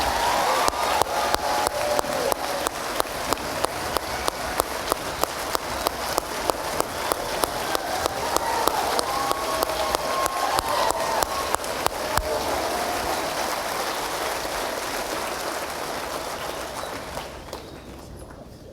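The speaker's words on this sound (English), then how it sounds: "let's give a big round of applause for the 2022 Courage Award recipient, Lena Nicholson." An audience claps at a high school sports awards night, continuous applause of even loudness lasting around seventeen seconds before it fades to quiet.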